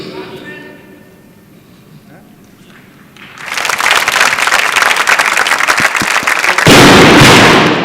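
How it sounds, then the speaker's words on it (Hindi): Loud applause at a dance competition grand finale erupts after a quieter stretch with a voice, a dense wash of clapping that swells even louder near the end. "मिस्टर सूरज स्टेज पर आए, जोरदार तालियां के साथ।"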